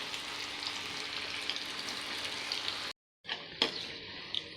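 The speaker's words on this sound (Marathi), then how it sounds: "कोफ्ते छान तळून घ्यायचे आहे" Mixed vegetable koftas coated in cornflour deep-frying in oil over a medium gas flame for veg Maratha kofta curry, a steady dense sizzle broken by a brief silent gap, then resuming with a few sharp crackles.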